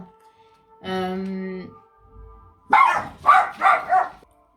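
A dog lets out a long, high whine, then after a pause barks sharply three or four times in quick succession, close and loud.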